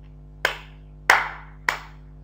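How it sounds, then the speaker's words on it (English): Three soft hand claps from a class clapping quietly on cue, evenly spaced about half a second apart, each a gentle pat with a short decay over a steady low background hum. "Now clap softly."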